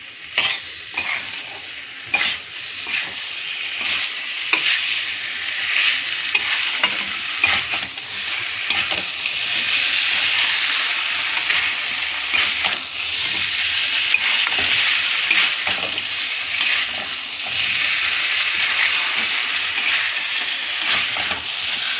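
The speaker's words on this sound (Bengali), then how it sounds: "এবার ভালো করে মিশিয়ে নেব ফ্লেমটা একটু হাই করে দিলাম" A fish curry, made with fish oil instead of cooking oil, is stirred in a pan over a high flame, giving a loud, continuous sizzle broken by repeated scraping strokes of the spoon, with no talking.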